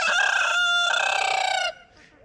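A rooster crows loudly and close by, one long harmonic call that cuts off sharply, followed by brief faint clucking.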